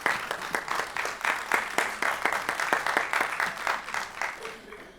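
Theatre audience applauding an actor at a stage drama, steady rhythmic clapping in a fairly even beat, moderately loud and sustained for several seconds before tapering off.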